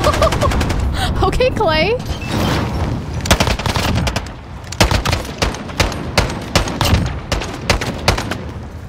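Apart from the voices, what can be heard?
gunfire in Call of Duty video game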